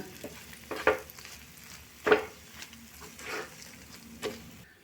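Masoor dal thickening in a pan over a low flame is stirred with a few distinct scraping strokes, each a short soft swish with a light sizzle between them. The sound is fairly quiet and close.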